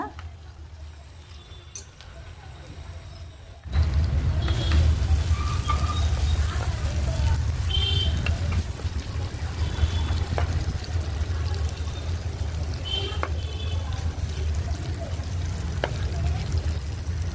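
Amla (Indian gooseberry) pieces start frying in oil, and after a quiet opening a steady close sizzle and crackle takes over and carries on evenly to the end.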